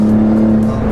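A Maserati Levante SUV's exhaust in sport mode gives a loud, steady engine drone for about a second, close by and without talk.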